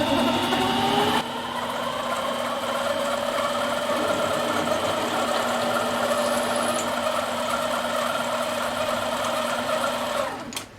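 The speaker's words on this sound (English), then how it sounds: "What I'm going to do now is deburr that hole and put just a little bit of chamfer on it." A steady mechanical whine and hum runs continuously as a hole in a 14mm hex nut is deburred and lightly chamfered, with a machine motor droning at a constant pitch and a brief cutting squeal partway through.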